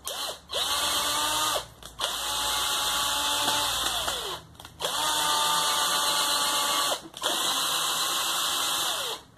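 Power drill boring through bamboo while fixing a wall-mounted cutlery rack: four sustained whining bursts of a few seconds each, separated by brief pauses, loud and close with no talk.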